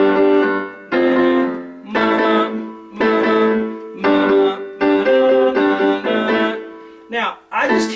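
Piano plays the bridge of a song, a series of sustained chords struck about once per second, loud and close, with a final short flurry of notes and no talking.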